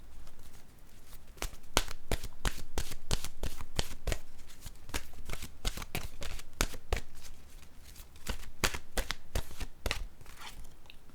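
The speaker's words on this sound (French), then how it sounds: "Je vais piger maintenant une carte de mon oracle de l'âme intuitive." Cards from an oracle deck are shuffled in quick, crisp riffling bursts, close and clear, with brief pauses between runs and no talking.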